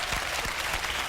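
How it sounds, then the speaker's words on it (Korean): High-school students in a humanities lecture hall applaud the author after his talk, a brief, steady wash of clapping heard alone. "박수 한번 주세요"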